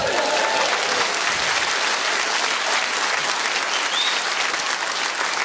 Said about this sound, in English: It's finished, applause!